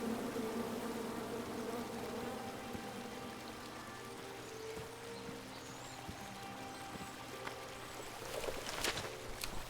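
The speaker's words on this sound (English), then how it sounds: "Come at me, bees!" Angry bees from a tree in the King's Quest video game drone in a steady, continuous buzz, with faint game sound effects scattered over it and a brief busier burst near the end.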